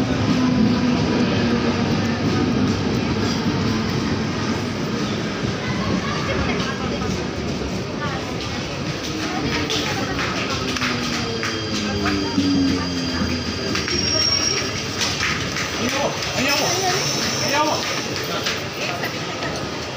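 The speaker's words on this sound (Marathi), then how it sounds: "उसके बाद लोकल पे आ चुकी है" A local commuter train pulls into an Indian railway station with a steady rumble, rolling clatter and wheel squeal, loud and continuous, while people talk nearby on the crowded platform.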